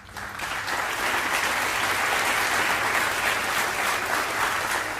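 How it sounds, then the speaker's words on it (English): Sustained, dense applause from an awards-ceremony audience, loud and steady throughout with no talk over it. "Please give your applause to Jeff Reynolds."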